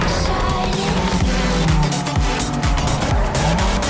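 A Golf GTI's engine roaring continuously in Need for Speed: Most Wanted on PS2, with repeated gear-shift drops and tire squeals, loud and close, with background music underneath.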